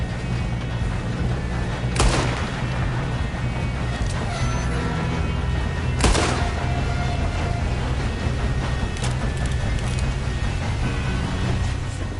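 Gunfire in the Red Dead Redemption 2 video game: a few sharp, loud shots cut through at wide intervals over a dense, rumbling background of moving noise.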